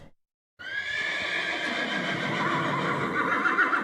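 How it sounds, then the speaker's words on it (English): A horse lets out a long, loud whinny that holds a shaky, quavering pitch for several seconds after a brief silence. "Horse."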